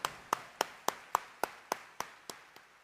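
A single person clapping in a church during a New Year's Day Mass homily, about ten evenly spaced sharp claps, fairly faint and slowly fading at the end.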